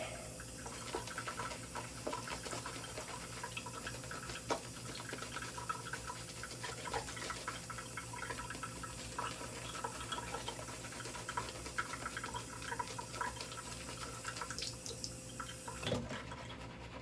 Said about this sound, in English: Add some more water to this.